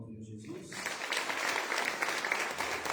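After a brief voice, a church congregation breaks into dense, sustained applause that swells and holds, full and close, filling the room.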